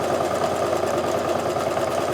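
A home sewing machine runs steadily, stitching fabric along a drawn line for a quilt block, with a continuous close whirring hum and rapid needle chatter that holds an even pace throughout.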